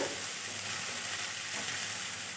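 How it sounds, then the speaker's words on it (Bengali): Cumin and other ground spices frying in oil in a pan for shrimp noodles, giving a soft, even, steady sizzle at low volume with no talking. "জিরের গুঁড়ো দিয়ে বেশ একটুখানি ভাজা ভাজা করে নেব মশলাটা"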